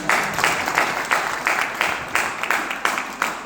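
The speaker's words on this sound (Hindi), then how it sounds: "एक बार मैडम के लिए जोरदार ताली" An audience at a gathering bursts into loud, close applause with a distinct rhythmic pulse, as if clapping in unison, lasting a few seconds.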